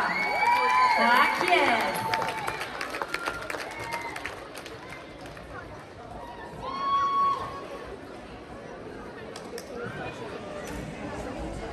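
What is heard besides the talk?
audience applause and cheering for a dance team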